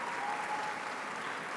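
An audience claps steadily and warmly at an Ontario film industry celebration held during TIFF, a dense, even wash of applause at close range with no pauses.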